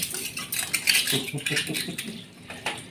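Metal pots and pans clattering and clinking together in a quick, busy jumble, close by and fairly bright, with no speech.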